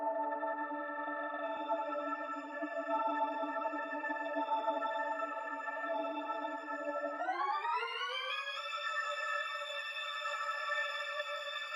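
A sustained synth melody note treated by a Murder Melodies plugin preset effect drones steadily with a shimmering, layered tone, then glides upward in pitch partway through and holds the higher note.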